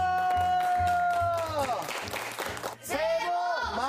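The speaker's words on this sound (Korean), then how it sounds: "박수!" A short burst of clapping swells briefly among bright, tonal voices or music, then fades as the voices return.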